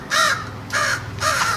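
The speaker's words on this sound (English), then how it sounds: "it's a crow pull toy" A crow pull toy caws three times in a row, each harsh call loud and close, with short gaps between them and no talking.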